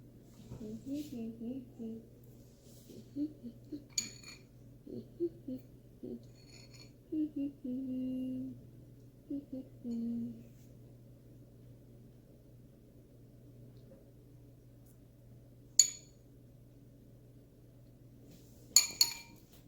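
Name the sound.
two spoons clinking while dipping cake pops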